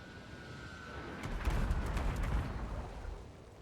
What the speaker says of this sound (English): He's got mortars falling all around him.